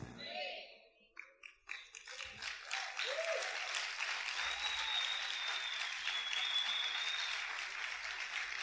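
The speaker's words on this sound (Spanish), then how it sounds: "¿Cuántos pueden aplaudir fuerte al Señor?" A church congregation bursts into applause, beginning with scattered claps and building into sustained, dense clapping that fills the room. Voices and a few cheers rise faintly beneath it.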